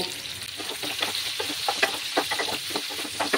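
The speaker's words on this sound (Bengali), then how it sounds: "এবার আমি এঁচড়গুলো দিয়ে দেব। দিয়ে সামান্য একটু নুন দেব, দিয়ে এটাকে ভালোভাবে ফ্রাই করে নেব" Raw jackfruit pieces fry in hot oil with a steady, close sizzle and crackle, broken by soft scraping and stirring knocks throughout.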